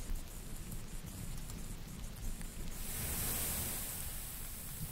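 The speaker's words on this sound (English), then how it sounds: "That's a nice thunder sound there." Rain and thunder ambience played from a website: a steady, faint hiss of rainfall with a soft, low rumble of distant thunder swelling partway through, with no talking.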